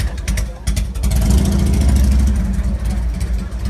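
Bruce's Studebaker pickup with a 360 Mopar (Chrysler/Plymouth) engine, running at a car show outside a donut shop in Huntington Beach, California: a close, loud, rough engine rumble with a few sharp bursts early on.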